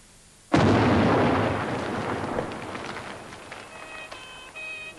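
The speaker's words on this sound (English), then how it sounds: "a bomb exploded under his motorcade" Bomb exploding under a motorcade after an election rally in Rhodesia, a sudden loud close blast followed by a long rumbling decay with scattered debris and crackles.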